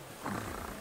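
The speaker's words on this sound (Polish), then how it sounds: "Mruczy." A cat in a SpongeBob video game purrs with a soft, steady rumble that swells slightly partway through and sits in a noisy background without talking.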